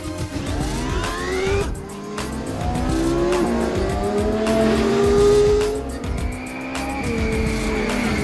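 A racing car accelerates hard with loud, sustained tire squeals, rising engine tones sweeping upward through several gear changes over about eight seconds, close and continuous with brief skid bursts.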